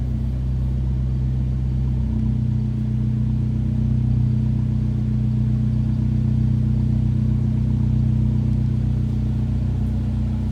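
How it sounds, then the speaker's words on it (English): A 2020 Fiat 124 Spider's 1.4-liter turbocharged inline-4 exhaust idles with a deep, steady rumble close by, shifting slightly in pitch partway through but holding a constant throaty drone. "Deep throaty exhaust note"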